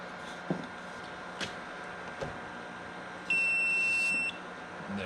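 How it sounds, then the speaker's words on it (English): An egg incubator alarm on a farm sounds a steady, bright electronic beep lasting about a second, standing out over a quiet room with a few faint knocks before it. "sure we'll hear the beep of the alarm going off here soon."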